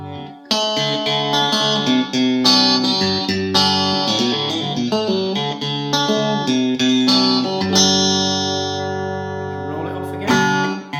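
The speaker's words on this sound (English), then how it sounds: "Roll it back a bit so you hear the treble coming in." A Stratocaster electric guitar with a modified TBX tone control, its treble control rolled partly back, rings out close and loud in a flowing sequence of picked notes and chords that ends on a sustained, fading note.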